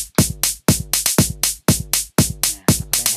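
Kick and hi-hat pattern loops on a Pioneer Toraiz SP-16 sampler, bright hissy hats sitting over steady kicks in a quick, even groove with no voice over it.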